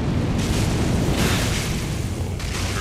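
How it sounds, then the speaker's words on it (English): A torch weapon art in Elden Ring blows out fire as a loud, continuous roaring whoosh that lasts the whole moment and swells in a few bursts, with no voices. "the weapon art on that one, blows fire"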